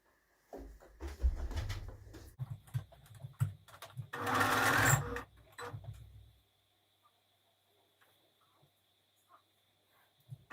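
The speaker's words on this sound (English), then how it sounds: "Now I'm going to go ahead and flat stitch my double hem." Sewing machine flat-stitching a double hem on a simple pillow cover, heard close in several short runs of rapid mechanical stitching with a louder sustained burst midway, then quiet handling sounds and near silence.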